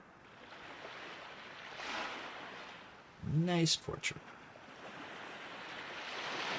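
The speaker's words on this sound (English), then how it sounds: "Ah, the relaxing sounds of the ocean." Ocean surf from the Sega CD game Lunar: The Silver Star washes steadily in the background, a soft continuous wave sound broken briefly by a person talking.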